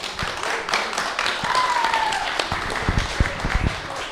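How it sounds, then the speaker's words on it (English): Audience clapping at an Astronomy on Tap science talk night in a San Antonio bar, a loose patter of hands at moderate distance with a few sharper claps standing out near the end, somewhat uneven and thinning rather than a dense roar. "one more round of applause"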